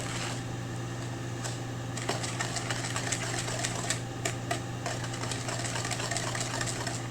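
Eggs stirred together in a bowl for lemon bar filling, giving quick, steady clicks and taps of a utensil against the bowl over a constant low hum, with no talking.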